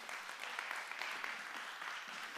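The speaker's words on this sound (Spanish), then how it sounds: "¿Alguien puede darle un aplauso al Señor por eso?" A church congregation applauds, a sustained, even wash of many hands clapping at moderate distance, with no voices over it.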